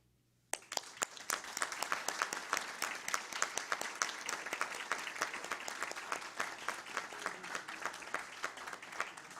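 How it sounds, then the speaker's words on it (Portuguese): Audience applause at a civic honors ceremony bursts in suddenly after a brief quiet moment, then continues as steady, rhythmic clapping from a moderately sized crowd, fairly distinct with individual claps audible. "eu agradeço ao Padre João o louvo e o aplaudo"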